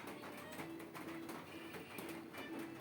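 A sewing machine runs a straight stitch along the folded hem of a seven-year-old girl's frock, a faint, steady mechanical whir with a rapid rhythmic tick.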